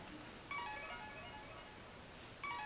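A phone ringtone plays through a connected speaker, a tonal electronic melody sounding steadily at moderate loudness from start to finish, with a louder phrase starting near the beginning and another near the end.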